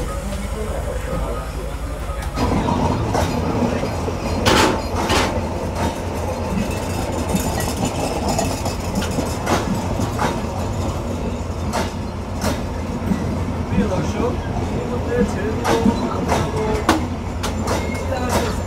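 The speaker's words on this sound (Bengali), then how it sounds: "আমাদের এই পাশে রয়েছে কপোতাক্ষ এক্সপ্রেস খুলনাগামী আন্তনগর ডাউন সীমান্ত এক্সপ্রেস" The Khulna-bound intercity Simanta Express, with an Indonesian-built broad-gauge rake, passes at Daulatpur station in a loud continuous rumble with repeated rail clatter and clicks, while someone talks over it.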